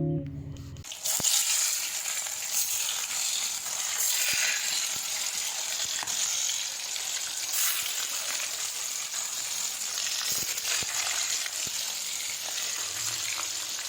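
Rohu fish pieces coated in turmeric fry in hot oil, giving a dense, continuous close sizzle that holds steady after a brief start, with occasional light pops and crackles.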